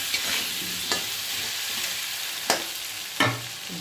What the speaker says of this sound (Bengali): নুন হলুদ দিয়ে দিয়েছি, ভালো করে ভেজে নেব আলুগুলো।